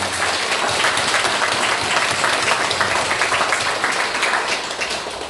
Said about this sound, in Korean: 우리 부평교회 식구들이 큰 박수 올려주시면 좋겠습니다